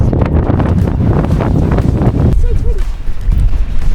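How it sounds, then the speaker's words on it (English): Strong coastal wind at Robe, South Australia, buffets the microphone in a loud, continuous rumbling roar, while people talk beneath it. "So windy, guys"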